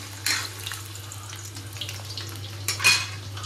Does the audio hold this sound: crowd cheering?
no